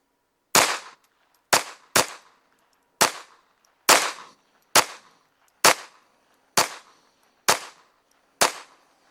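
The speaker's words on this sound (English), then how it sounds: "We'll shoot a 10-shot group at that bottom right" A Taurus TX22 pistol fires ten sharp shots of Armscor ammunition at a slightly uneven pace, each crack loud and close with a brief decaying ring.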